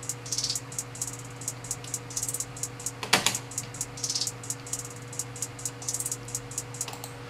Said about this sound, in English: And this is going to give the hi-hats a fading effect